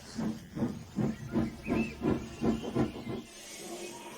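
A steam engine chuffs about ten times in an even rhythm, with hissing steam behind the puffs and one brief whistle-like tone. The puffs die away into a soft hiss at the end.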